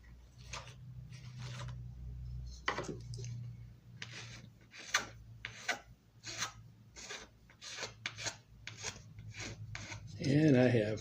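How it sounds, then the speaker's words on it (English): A rasp files wood in a model railroad shop, about a dozen short rough strokes in a steady rhythm, close and moderately loud, with a brief voice near the end. "got a rasp for this"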